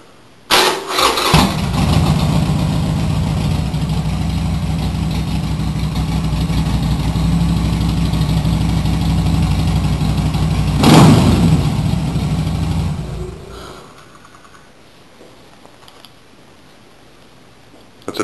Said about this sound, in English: This is a nice looking 883 Sportster. Let's start it up and see how it sounds.